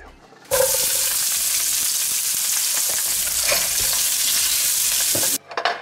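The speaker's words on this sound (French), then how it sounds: "on va mettre à dorer un oignon coupé en 8 et 4 gousses d'ail" Onion cut into eighths and four garlic cloves browning in a hot pan, a loud, dense sizzle with scattered stirring scrapes that starts abruptly and cuts off near the end, with no voices.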